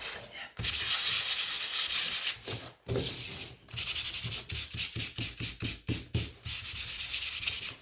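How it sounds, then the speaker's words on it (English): Sanding a piece of wood painted black, with steady abrasive rubbing strokes that run in long sweeps, then break into a quick rhythmic back-and-forth of short passes, close and fairly loud. "so that feels dry, so I'm going to give it a sand."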